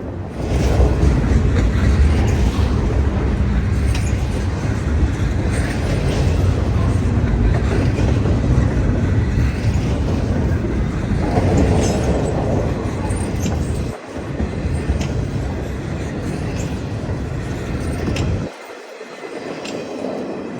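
A freight train hauling Amazon Prime intermodal containers rolls through Cordele, Georgia, with a loud, continuous rumble and rhythmic wheel clatter close by, the steady roar cutting off briefly near the end.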